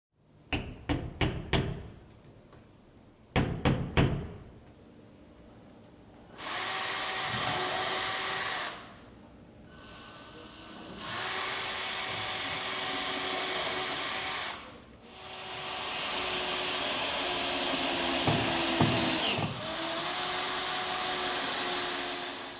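A power drill drives long 2.5-inch hinge screws into a door frame: a few short bursts, then long steady whirring runs with brief pauses between them, close and loud, with no talk.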